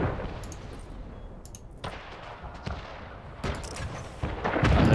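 Naval battle in Anno 1800, with scattered cannon and artillery blasts over a busy background of ship combat, several sharp reports spaced irregularly and a heavier barrage swelling at the end.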